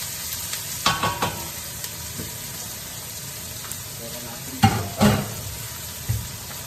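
Pancit ingredients fry in a pan with a low, steady sizzle, broken by a few sharp scraping strokes and clatters of stirring, near and fairly loud.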